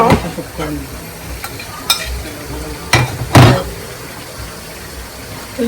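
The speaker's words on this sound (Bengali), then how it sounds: "ব্রোকলিটা একদম স্ম্যাশ করে নিছি কিন্তু এটার সাথে মিক্সড করে নিই" Noodles being stirred and mashed together with smashed broccoli in a bowl, giving soft wet squelching and scraping with a few sharp utensil clinks against the dish, close and intermittent.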